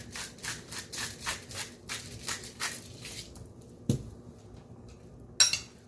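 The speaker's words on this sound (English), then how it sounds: "Just going to mix that in." Salt and pepper being stirred into chicken with a utensil in a bowl, a quick series of scraping, clinking strokes in a steady rhythm that stops, followed by two sharper isolated knocks.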